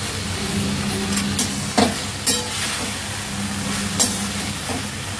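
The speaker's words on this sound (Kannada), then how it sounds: "ಚೆನ್ನಾಗಿ ಫ್ರೈ ಮಾಡಿ ಆ ಗೋಬಿ ಎಲ್ಲ ಆ ಸಾಸ್ನ ಅಬ್ಸರ್ವ್ ಮಾಡ್ಕೋಬೇಕು" Gobi manchurian frying and being stirred through sauce in a pan, a steady sizzle broken by several sharp scrapes and clanks of the spoon, close and alone with no talk.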